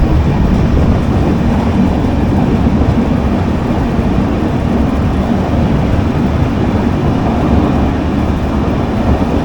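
A passenger train in Goa runs through a long tunnel, heard from inside as a loud, steady, dense roar and rumble that never lets up, with no voices.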